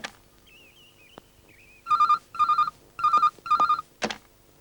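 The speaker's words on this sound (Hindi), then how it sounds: "राजू को फोन लगा" A phone keypad beeps a few times, then four bursts of dial tones ring in a steady pattern, ending with a short click.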